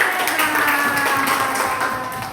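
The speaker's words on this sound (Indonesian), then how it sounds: "Oke, tepuk tangan dulu dong buat anak-anak" Children applauding in an elementary school classroom, a steady, dense wash of many small hands clapping close by, holding even for a couple of seconds and tapering slightly at the end.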